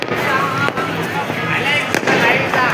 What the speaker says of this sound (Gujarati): બધા ફટાકડા ફૂટી રહ્યા છે.